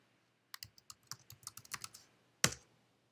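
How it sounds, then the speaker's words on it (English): Quick, light keystrokes on a computer keyboard patter in a short burst while login credentials are entered, then stop, followed by a single sharper key tap, close and quiet. "you're gonna type in this line here, and you're gonna log in using your credentials"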